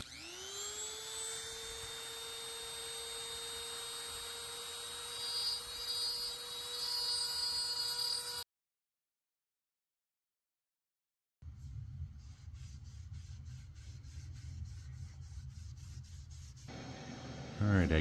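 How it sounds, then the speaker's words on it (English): Dremel rotary tool carving lettering into metal for a Viking skull sculpture: a steady high-pitched whine for several seconds, then a pause, then rougher, buzzier grinding at close range. "I'm just gonna carve them in there with my Dremel"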